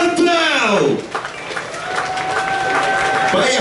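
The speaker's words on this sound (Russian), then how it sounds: "давайте тогда под ваши бурные аплодисменты на сцене легендарного клуба «Джаггер»" A crowd at a rock band's solo concert in the Jagger club in Russia applauds and cheers as the band takes the stage. Gliding whistles and shouts sit over a loud, continuous roar of clapping.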